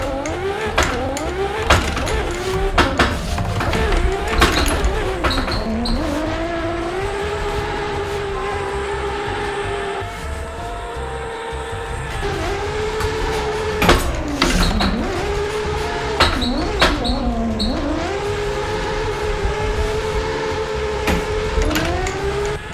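Ferrari 599XX supercar engine in Assetto Corsa, revving loud and continuous while drifting, pitch sweeping up and down through gear changes and throttle lifts with no talk over it.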